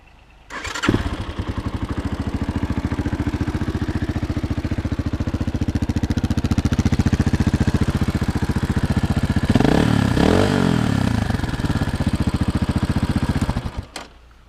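A Shineray XY250GY-6C motorcycle engine cranks and fires, then runs steadily at a loud, close, even idle for about thirteen seconds before cutting off, with no talking.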